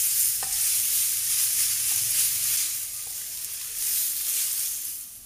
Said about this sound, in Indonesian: Aduk-aduk dan masak sampai berubah warna.